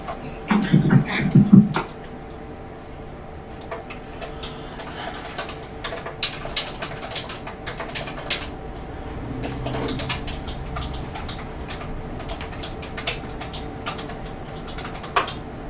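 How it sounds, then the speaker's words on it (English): Typing on a computer keyboard in a room, with irregular clusters of close key clicks and taps, a short louder burst near the start, and faint speech in the background. "Then, Carmen, are you typing stuff with all of these different spaces"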